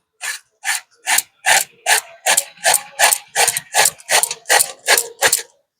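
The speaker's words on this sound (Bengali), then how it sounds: "এই যে এইভাবে গ্রেড করে নিচ্ছি" A carrot rubbed against a hand grater in about thirteen steady, rasping strokes, each a short scrape with a clear gap between, close and fairly loud, with no speech.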